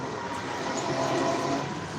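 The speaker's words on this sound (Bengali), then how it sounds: "এখন হচ্ছে বিরাট বড় একটা ট্রেন আসবে" A train approaching a railway crossing rumbles past with a broad, steady roar of wheels and engine noise, loud and continuous, swelling slightly in the middle.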